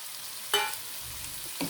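Onions and tomatoes sauté in a pan for a spicy bhindi recipe, with a quiet, steady sizzle broken by a couple of brief, close stirring scrapes.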